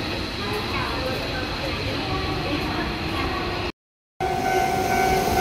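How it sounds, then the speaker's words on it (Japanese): A through limited express train rumbles steadily as it pulls away from an underground platform at Kosoku Kobe, with dense rolling rail noise, a brief dropout, then a sustained tonal hum. "今発車していったのは上り1本目の直通特急です。"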